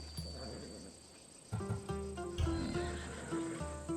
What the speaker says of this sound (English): That horse can cling to mountain passes like a goat.